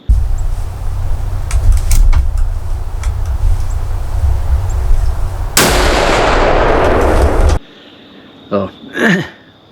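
A single loud rifle shot at a buck deer in a pecan orchard cracks out after a stretch of outdoor background noise, followed by quiet and then voices talking briefly.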